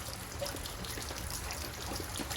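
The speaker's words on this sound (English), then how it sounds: "So we're gonna let the water heater drain all the way out." Water steadily trickles and splashes as it drains out of the water heater of a Forest River No Boundaries 19.5 RV camper, a faint, continuous flow with no talking.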